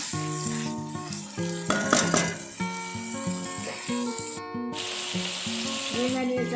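Potatoes and eggplant frying in a pan, a continuous hiss and sizzle with occasional stirring scrapes, heard beneath a melodic background.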